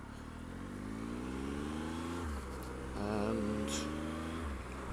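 Triumph Explorer XC 1215 motorcycle riding on a road through a town, a close, steady engine drone that rises and falls in pitch as it shifts and accelerates, with a brief word spoken.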